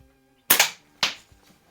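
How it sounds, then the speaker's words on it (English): A Crosman 600 air pistol fires at knockdown targets: two sharp, close cracks about half a second apart, each followed by a brief metallic rattle, with a faint tap after. "I was shooting at the knockdown targets."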